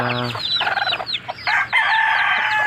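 Brooding hen clucking over four eggs, close and fairly loud, a run of throaty repeated clucks and calls with a few rising squawks.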